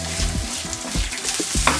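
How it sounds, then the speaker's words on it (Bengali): Sliced onion fries over high flame for handi chicken dum biryani, a loud, steady sizzle with repeated scraping stir strokes throughout. "বেরেস্তাটা ভাজি।"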